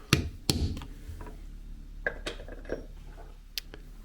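Metal leather-tooling beveler, a bob-eared checkered type, struck by a mallet on leather while beveling a carved flower design: a few sharp, close taps, irregularly spaced, with quieter knocks between.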